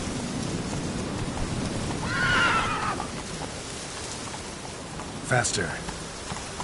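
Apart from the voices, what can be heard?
horse Roach galloping and neighing, from The Witcher 3 video game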